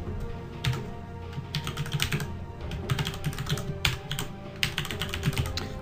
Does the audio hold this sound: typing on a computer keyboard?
yes